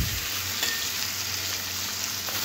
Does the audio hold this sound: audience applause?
no